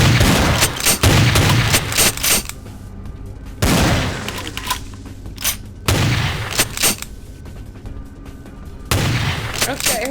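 In the VTMB Final Nights mod, heavy gunfire rips through walls in repeated loud bursts, each volley a few seconds long, separated by short lulls of quieter background noise.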